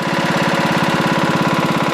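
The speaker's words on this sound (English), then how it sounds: "I'm going to go ahead and take that and see how the lawnmower behaves pulling it" Riding lawn mower engine running steadily close by, a continuous mid-pitched chugging drone with a fast regular pulse.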